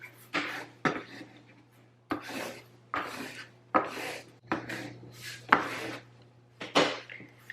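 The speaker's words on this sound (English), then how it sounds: "let's burnish it" Transfer tape is burnished onto a Cricut vinyl craft project with about nine quick rubbing scrapes in an uneven rhythm, each one close and crisp with short pauses between, against a faint steady hum.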